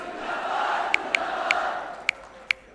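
Crowd noise at a BJP party membership-drive event, a broad roar of cheering voices with a few sharp claps or whistles standing out above it, loud and sustained throughout.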